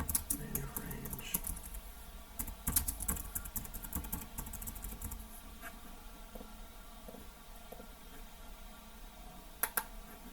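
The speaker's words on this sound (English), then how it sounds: "just type it in" Keys clicking in a quick, irregular patter on a computer keyboard, moderately close and steady, with a few louder taps near the start and end, against a low background hum.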